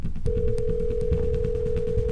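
A steady, unbroken telephone tone starts just after the beginning and holds to the end as a phone call is placed, sitting over a low background bed with no talking.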